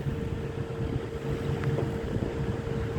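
A trawler boat's engine drones steadily on a river at Degrichar bridge, Charbhadrasan, Faridpur, with a constant low hum and wind buffeting the microphone throughout.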